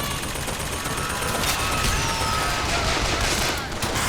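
Flak cannon gunfire in Bioshock Infinite, a dense continuous barrage of rapid shots and blasts blending into a loud steady roar of combat, with voices faintly mixed in.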